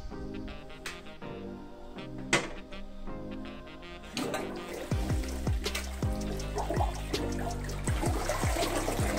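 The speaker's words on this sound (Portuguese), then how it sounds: "Vamos dar a descarga." A toilet with a newly installed flush kit is flushed, water rushing and gurgling loudly into the bowl after a brief start, then swirling and trickling steadily close by.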